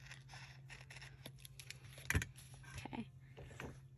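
Scissors snip paper scraps for a junk journal, with faint, close rustling and a few soft cuts, one sharper snip in the middle, all quiet and without talk.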